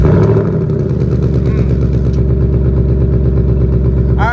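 A cam-tuned Ford Mustang GT V8 rumbles steadily at a loud, close idle throughout, with a deep, lumpy, uneven exhaust pulse and no clear ignition moment.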